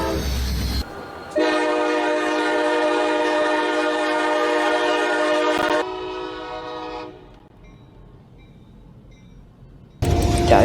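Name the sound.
CSX freight train Q367 passing, SD70ACe locomotive trailing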